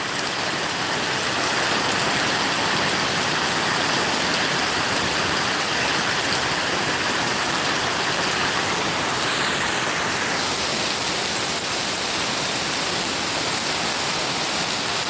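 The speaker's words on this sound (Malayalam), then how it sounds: "ശരിക്കും ഒരു വെള്ളപ്പാച്ചൽ പോലെ തന്നെയാണ് വരുന്നത് കണ്ടില്ലേ വെള്ളത്തിൻ്റെ സ്പീഡ് കണ്ടോ" Floodwater rushes loudly down a street in heavy rain in Hyderabad, a dense, continuous roar of water that stays close and steady throughout, with no voices heard.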